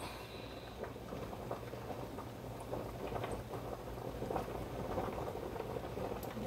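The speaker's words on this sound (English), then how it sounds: "I'll put some oil in the pan so I can fry them up a little bit." Oil bubbles and crackles in a hot pan, a low, steady sputtering patter that continues evenly at moderate distance without talk.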